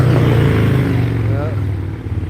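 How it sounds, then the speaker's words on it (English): A motorcycle passes through a quiet residential neighborhood in Hawthorne, its loud, low engine drone close and steady before easing off as it moves away, with people talking over it. "Oh, here comes the motorcycle guy."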